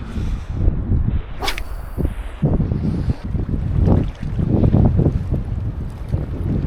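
Cold wind gusting outdoors on a salmon fishing trip in Tasmania, buffeting the microphone with a loud, continuous low roar that swells and fades in uneven gusts.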